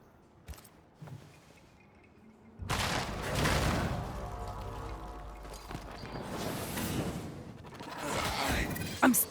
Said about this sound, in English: Flora's rifle, I'll wager.